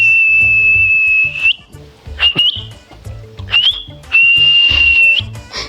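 Sharp, shrill whistles from a person in a rural village comedy scene, four separate blasts of varying length, the first and last held long, loud and close, with rustling and movement noises between them.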